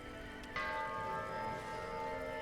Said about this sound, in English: Oh, it's a Halloween doorbell.